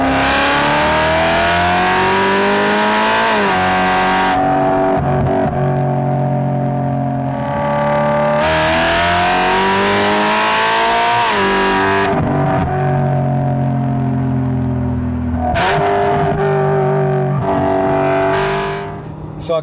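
A loud 625-horsepower BMW E92 M3 engine revs and pulls hard through the gears, pitch climbing then dropping at each shift, sustained throughout at close range.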